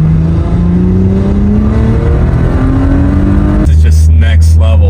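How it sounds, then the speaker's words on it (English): An Audi SUV tuned to stage 3+ with an upgraded turbo drives steadily, its engine drone rising with a turbo whine, then shifts to a deeper, louder pull near the end as a voice talks over it. "the turbo spool alone over the stock turbo is insane"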